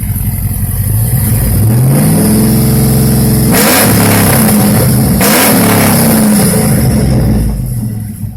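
Chevrolet Avalanche engine with OBX headers, a cam and a Spintech 9000 exhaust idles with a loud, throaty rumble, then revs hard twice in quick succession before dropping back to a deep burble, close and alone.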